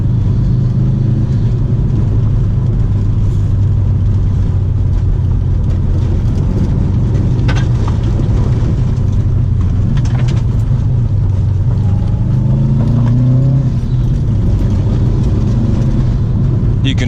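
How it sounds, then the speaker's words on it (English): A stock 2012 Subaru WRX STI rally-driven on gravel roads, its engine a steady, loud low rumble heard from inside the car, with occasional rises in revs and scattered clatter. "Man, this car's got so much grip on these gravel roads."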